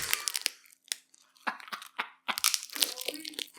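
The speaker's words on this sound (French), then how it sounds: "croque dans le micro, je vais capturer ça" Close-up crunching of a shrimp bitten right against the microphone, a series of sharp, crackly bites and chews with brief pauses between them.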